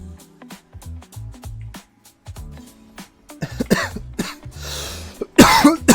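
A character in a League of Legends ARAM match coughs in a few short rough bursts near the end, over busy game sound effects and music without talk.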